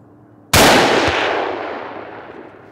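A single hunting rifle shot outdoors, a sharp loud crack followed by a long rolling echo that fades slowly.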